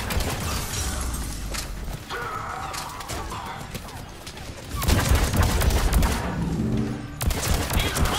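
Rapid gunfire from armor-piercing rounds in the Mass Effect 3 co-op video game, loud bursts of shots cracking out in clusters with a brief lull midway, mixed with mechanical game effects.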